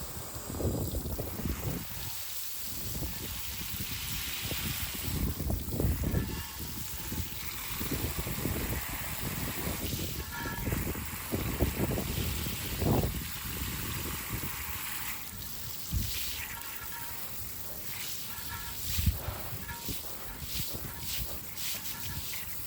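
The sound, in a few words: rinsing Meguiar's wheel and tire cleaner off with water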